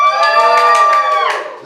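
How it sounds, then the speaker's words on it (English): Comedy club audience at a Bright Club Loughborough show cheering and whooping together, a loud sustained crowd roar with children-like shrieks that fades toward the end. "Give us a cheer if you've been to comedy before"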